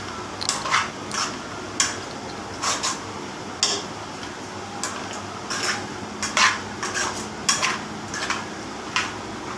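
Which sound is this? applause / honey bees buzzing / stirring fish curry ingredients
stirring fish curry ingredients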